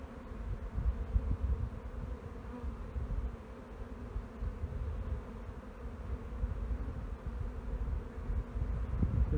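Honey bees swarm around an open hive on a bee farm, a continuous low droning buzz of many insects close to the microphone, swelling and dipping, with light wind noise and no talking.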